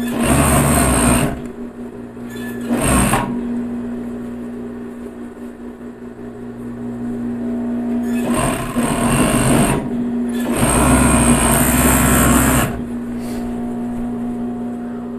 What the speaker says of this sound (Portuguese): Alinho sempre a costura e vou costurar.